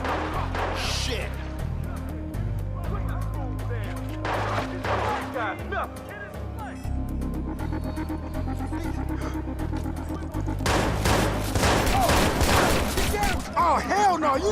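Gunfire in the Watch Dogs video game on PS4: bursts of shots that crowd in near the end, mixed with game music and dialogue.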